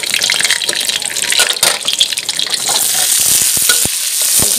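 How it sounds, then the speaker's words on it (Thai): Garlic frying in a pan for lotus-leaf-wrapped Chinese sausage fried rice, a loud steady sizzle with scraping stir strokes and brief clatter, no voices. "กระเทียมเจียวพี่ปูเริ่มเหลืองแล้วนะคะ"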